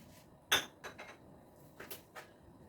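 A spoon stirs teriyaki eggplant sauce thickened with cornstarch in a pan, giving one sharp clink against the metal followed by a few softer, scattered scrapes and taps, close and fairly quiet.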